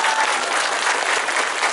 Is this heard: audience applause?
yes